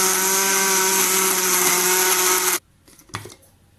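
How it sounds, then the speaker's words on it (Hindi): A kitchen mixer grinder purees tomatoes with a little water, running as a loud steady whir for about two and a half seconds before cutting off, followed by a few faint clinks. "सबसे पहले हम टमाटरों को एक मिक्सी में डाल के पीस लेंगे"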